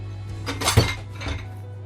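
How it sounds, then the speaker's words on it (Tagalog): Strawberry muffin batter is stirred in a bowl, a few light clinks of a utensil against the bowl with one sharper knock near the middle, close and fairly soft over a low steady hum. "And then mix it, please. Mix it."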